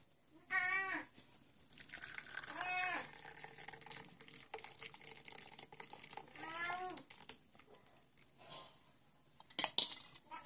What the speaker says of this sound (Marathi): आणि हा चहा आता गाळून घेऊया आपण।